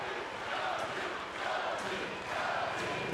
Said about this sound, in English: The crowd's still chanting his name.